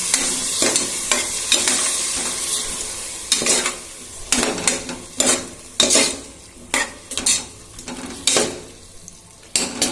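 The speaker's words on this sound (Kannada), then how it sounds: "ಈಗ ಈ ಮಸಾಲೆನ ತರಕಾರಿಗಳ ಜೊತೆ 2 ನಿಮಿಷ ಚೆನ್ನಾಗಿ ಫ್ರೈ ಮಾಡ್ತಿದ್ದೀನಿ" Ground masala being fried with vegetables for veg pulao, loud close frying with repeated bursts of spoon scraping and stirring against the pan in an uneven rhythm.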